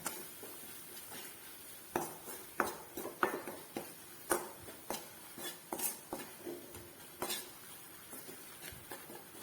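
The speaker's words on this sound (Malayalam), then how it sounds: "ഇതിലേക്ക് ചേർത്ത് ഒന്ന് മൂപ്പിച്ചെടുക്കാം ലോ ഫ്ലെയിമിൽ ഇട്ടിട്ട് വേണം ഇത് ചെയ്തെടുക്കാനായിട്ട് അപ്പോൾ ഇത് നന്നായിട്ടൊന്ന് ഇളക്കി മൂപ്പിച്ചെടുക്കാം" Curry leaves, shallots and chilli fry in a pan over a low flame while a spatula stirs them, giving quiet, irregular scrapes and clinks against the pan and no talking.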